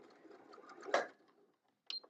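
Sewing machine stitching binding onto a quilt, a brief soft run of mechanical clatter that ends in a sharper clunk, then quiet and one small click, close and faint.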